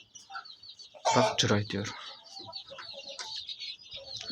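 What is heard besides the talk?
Brahma chickens and rooster clucking in a chicken coop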